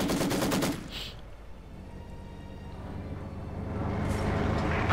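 MG-42 machine gun fire in a WWII tank video game, rapid loud bursts at the start and again building near the end, with engine rumble and battle noise between.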